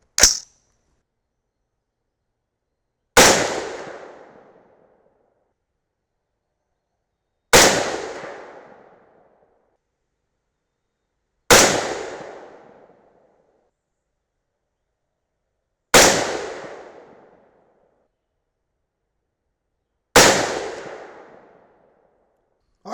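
A .308 Winchester rifle firing 175-grain Sierra MatchKing loads unsuppressed, six sharp loud reports spaced a few seconds apart, each followed by a decaying echo.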